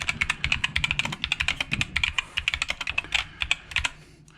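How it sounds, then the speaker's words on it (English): Rapid typing on an Asceny One mechanical keyboard with linear switches, close and crisp, with steady clacking keystrokes and no voices. "for linear switches on this particular keyboard"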